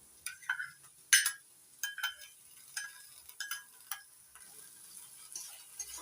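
Green chili paste is sautéed in a pan with ginger and garlic for jackfruit chicken curry over a medium gas flame. A faint sizzle sits beneath sparse, irregular clicks and scrapes of a spoon stirring.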